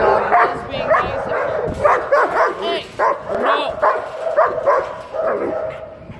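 A dog gives a run of excited high yips and short barks mixed with whimpering, repeated in bursts about every half second, close and loud.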